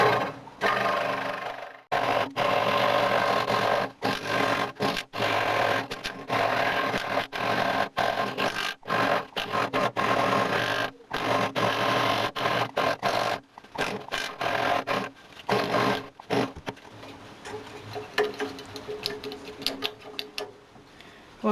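A locked blade cuts through material in a handmade lamp build, a loud, steady rasping saw noise in close stroke bursts with brief pauses, continuing alone for about twenty seconds.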